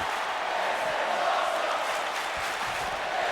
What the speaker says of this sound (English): This crowd is hyped here in San Antonio.